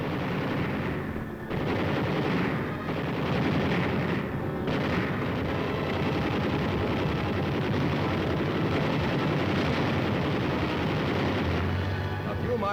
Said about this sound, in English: Near the parallel, Red rear guard positions are raked with 50 caliber fire.